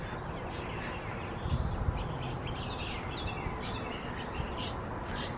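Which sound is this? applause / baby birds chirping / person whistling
baby birds chirping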